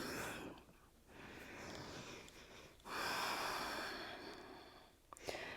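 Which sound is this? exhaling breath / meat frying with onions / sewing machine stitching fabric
exhaling breath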